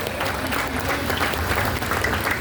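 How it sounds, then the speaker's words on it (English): Outdoor crowd at a Memorial Day ceremony giving a round of applause, steady dense clapping from many hands, fairly close and sustained across the moment. "Give everybody, give them a round of applause."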